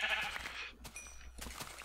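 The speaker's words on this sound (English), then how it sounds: "So, tons of sheep." Sheep bleat in Minecraft, a few soft, wavering calls at moderate distance with brief gaps between them and no talking.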